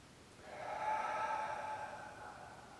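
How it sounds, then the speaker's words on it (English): A slow, deep exhalation during a tai chi breathing exercise, one long, soft, airy breath out that swells and then fades over a couple of seconds, close and alone. "we're dropping that diaphragm and then squeezing in, letting that stale air come out. Breathe in."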